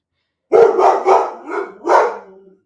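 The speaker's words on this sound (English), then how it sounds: "Dog's gonna bark, I'm pretty sure." A dog barks loudly and close by, about four sharp barks in quick succession, the last one slightly drawn out, with quiet around them.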